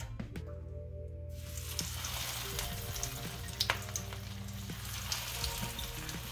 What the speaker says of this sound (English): tuna fish croquettes out of the freezer and start frying